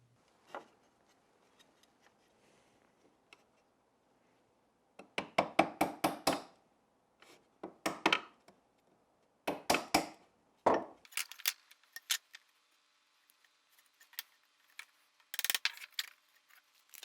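Hand tools chop and pare wooden corners on a small box, sounding as sharp, close taps and knocks in clustered bursts with quiet gaps between them.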